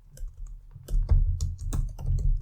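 Computer keyboard typing while a DAX measure is entered, a run of quick, close key clicks with brief pauses, accompanied by a steady low hum and no voices.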